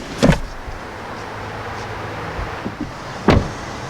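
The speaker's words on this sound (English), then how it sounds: "The rear seats of the XT5 do fold 40-20-40 split, so just grab this little handle and it will fold." Rear 40-20-40 split seat of a 2019 Cadillac XT5 folding down inside the cabin: a short latch click, then a soft muffled thud about three seconds later, with quiet car interior ambience between.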